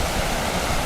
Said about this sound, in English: This is the River Wharf